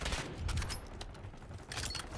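Rapid gunfire from snipers in a shooter video game, a dense run of sharp shots and booms that keeps going for about two seconds with no pause.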